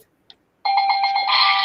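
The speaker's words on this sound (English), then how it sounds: "you're gonna hear this bell ring for someone" Bell ringing with a bright, sustained metallic tone that starts suddenly after a near-silent pause and holds steady to the end, clear and up close.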